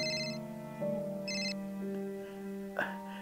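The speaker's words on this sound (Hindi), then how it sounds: "शर्मा जी का फोन है" A mobile phone ringtone plays alone, a repeating melodic electronic tune with clear sustained tones, fairly close and steady for a few seconds.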